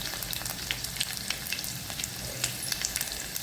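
Crushed garlic cloves frying in hot oil in a pan with mustard seeds, cumin and chilli, giving a steady close sizzle with scattered crackling pops throughout.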